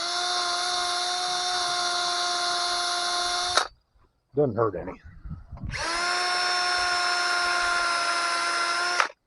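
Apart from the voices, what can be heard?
round brush on a drill cleaning bores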